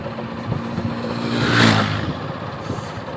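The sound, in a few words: motorcycle being ridden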